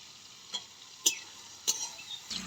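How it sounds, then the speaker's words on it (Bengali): Prawns fry in hot oil with turmeric and salt in a heated pan, a quiet steady sizzle broken by three or four sharp clinks of a spatula stirring against the pan, close and without talk. "চিংড়ি মাছগুলো ভাজা হয়ে গেছে"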